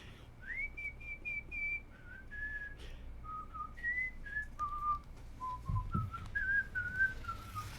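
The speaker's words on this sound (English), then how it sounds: "I'm gonna whistle twice in the meantime," Clear melodic whistling, a string of sustained notes rising and falling in a tune, close and fairly soft, with no talking.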